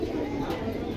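Jira-necked pigeons coo in a low, continuous murmur at the Jinjira Bazar pigeon market, with steady crowd chatter and voices talking throughout.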